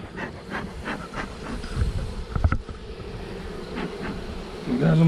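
Disturbed honeybees buzzing in an opened hive during a spring colony check, with a faint, steady drone overlaid by brief rustles and handling bumps close by.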